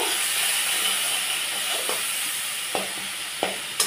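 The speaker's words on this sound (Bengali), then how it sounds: "আমি নুন হলুদটা দিয়ে একটু এবার নাড়াচাড়া করব" Tomato with salt and turmeric fries in a pan with a constant hissing sizzle, and a spoon stirring it gives a few sharp scrapes and taps toward the end, close and without talk.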